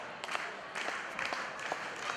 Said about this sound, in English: And Joey starts the soul clap.